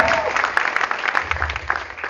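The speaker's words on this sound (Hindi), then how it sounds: "दोस्तों, जोरदार ताली हो जाएगा।" Loud audience clapping at a DHB Group celebration, a dense burst of many hands ringing out continuously with a faint murmur of voices underneath.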